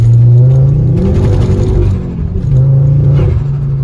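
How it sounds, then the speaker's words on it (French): Car engine air intake roaring as the engine revs, a loud close droning rumble that dips briefly and then rises again. "T'entends super bien l'admission"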